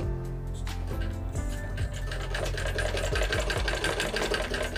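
A sewing machine stitches steadily during neck-shape finishing practice, a dense continuous mechanical hum and rapid rattle filling the whole stretch at close range, with no voices.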